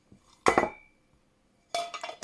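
Two bright metallic clinks of the tiny pans from a Juwel 34 camping stove knocking together, close by, separated by a short silence.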